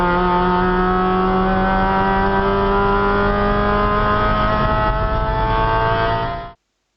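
Race car lapping Phillip Island GP Circuit, short shifting out of a corner to avoid wheel spin: loud, steady in-car engine drone with strong harmonic whine, pitch easing slightly, held for several seconds before cutting off abruptly.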